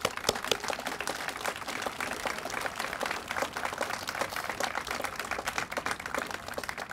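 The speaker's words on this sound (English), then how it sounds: "Let's give them another big round of applause." Continuous crowd applause for firefighters and police at a citywide remembrance gathering in Long Beach, a dense patter of many hands at moderate level from start to finish with no talk over it.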